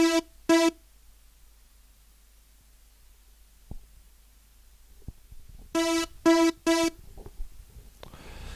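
Two sawtooth oscillators on a Reason Malstrom synth play short, bright buzzing notes, two stabs then a pause and three more, loud against near silence.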